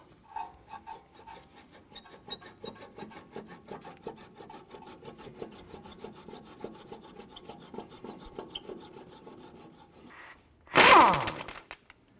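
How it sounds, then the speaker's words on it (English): A wrench and socket work a bolt out of the strut on the right CV axle of a 2004-2008 Acura TL, giving steady close scraping and rubbing strokes that end in one loud, brief metallic burst. "remove the nut from the bolt using a wrench and socket. Go ahead and work that bolt out"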